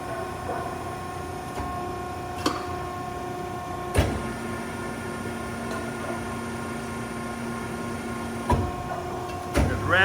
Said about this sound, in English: 4-foot Betenbender hydraulic press brake.